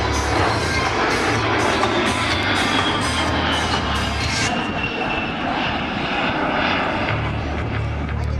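A-10 jet flying a display at the 2010 Jones Beach Airshow, a loud, continuous engine roar that holds steady then shifts in tone as the aircraft passes, with an announcer's voice over it.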